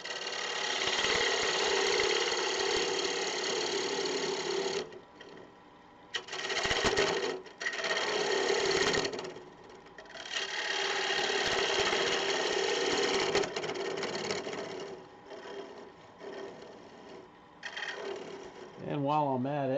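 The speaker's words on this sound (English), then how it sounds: "So let's get in there with a small bowl gouge." A rough, scraping cutting noise in long bursts with brief pauses, a small bowl gouge biting into a wooden box spinning on a lathe, fairly close and steady.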